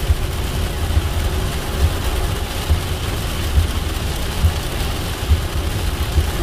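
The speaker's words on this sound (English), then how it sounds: "quite a bit of rain here on the road" Steady heavy rain from a pop-up storm in Southern Alberta hisses over a road, with a low engine hum underneath and regular soft thumps recurring about every second.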